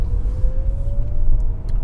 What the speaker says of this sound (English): I'm on the accelerator pedal now.